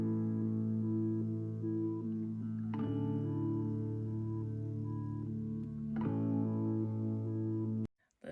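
Synth lead layer from a cover of a song, a steady buzzy sustained tone holding long notes with two abrupt shifts, fairly quiet, cutting off near the end before a short click.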